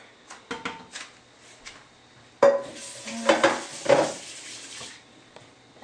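Onions and garlic stirred into meat in a big saucepan, a few light clinks and scrapes followed by a louder burst of sizzling and spoon-stirring against the pan, close and dry with no talking.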